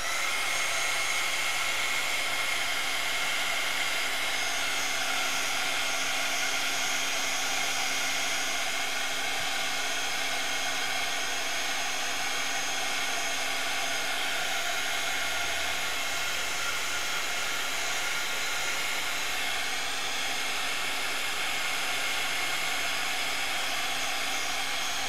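A hair dryer blows over watercolor paint on paper, a continuous steady whooshing drone with a faint high whine that runs unbroken throughout, no speech.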